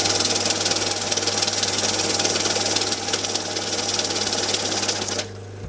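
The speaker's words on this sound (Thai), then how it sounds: "เครื่องจะทำงานอัตโนมัติทุกครั้งที่เราวางธนบัตรนะครับ" An MC2200UV banknote counting machine runs steadily with a rapid mechanical whirring and clatter and a constant low motor hum, loud and close, then drops to a quieter idle near the end.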